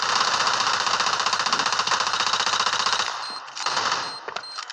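Rapid automatic gunfire in a video game, a dense sustained burst of shots into a wall that stops abruptly after about three seconds, followed by a few scattered quieter impacts and game noise.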